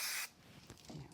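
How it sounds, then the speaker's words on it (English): A short burst of spray glue from an aerosol can on a fine craft frame, one loud close hiss lasting a fraction of a second before fading to quiet handling noise. "I'm just going to use a little bit of spray glue"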